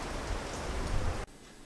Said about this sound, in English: it's a bit windy and it's quite a bit of rain this morning